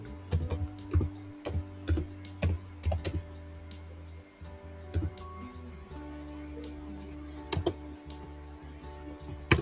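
Keys on a computer keyboard clatter close by in uneven bursts of quick taps, pausing briefly and then resuming, with a low steady hum underneath.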